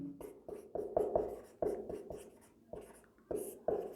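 Chalk or marker writing on a board during a chemistry lesson about halogen compounds, heard as a series of short scratchy strokes in bursts with brief pauses, fairly close and clear, with no talking.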